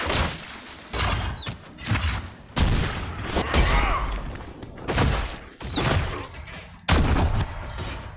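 Gate being smashed apart in Dragon Age Inquisition, a series of heavy booming impacts at roughly one-second intervals, each followed by crashing, splintering debris, loud and close with little talk.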